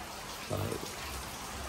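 Steady rain falls during a village flood, pouring onto water and steps in a continuous hiss with a brief louder patch of splashing.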